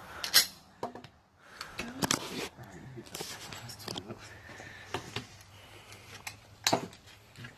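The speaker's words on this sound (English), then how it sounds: "they're loading my mags and they're charging the gun for me" Gun magazines being loaded and a gun being charged at an outdoor shooting challenge: sharp metallic clicks and clacks come in scattered bursts, fairly close, with people talking in between.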